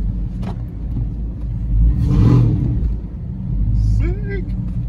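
A rebuilt Cadillac Escalade engine running, a loud low rumble that swells into a rev midway and settles back to a steady idle, with people talking over it.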